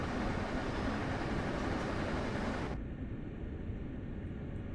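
Passenger train on the Northeast Corridor near New York in Train Sim World, accelerating toward 90 mph: a loud, steady broadband rumble that abruptly drops in brightness partway through, settling into a lower continuous roar with no talk.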